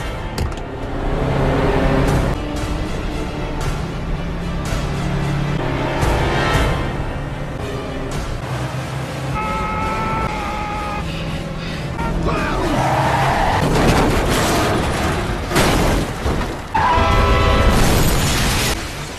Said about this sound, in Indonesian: Mereka berdua mencuri bus dan berduel, merusak banyak kendaraan lain selama pengejaran dan akhirnya menghancurkan kedua bus tersebut.